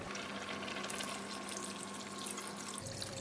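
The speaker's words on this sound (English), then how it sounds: "I'm going to add on a bit more of water." Water pours steadily from a tap into a pot of pork stew with vegetables, a close, continuous rushing gush that holds the whole time with no talk.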